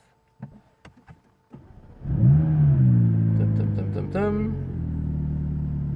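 A Pagani supercar, recently troubled by a gearbox issue, cranks and fires up, then its engine revs hard with a rising, throaty roar that settles into a steady loud idle; a few clicks precede the start.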